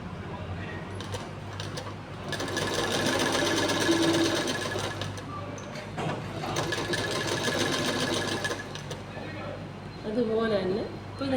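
A sewing machine runs in long steady bursts while stitching a sleeve, its needle whirring in a fast even rhythm with short pauses between runs, loud and close, with a voice talking at times.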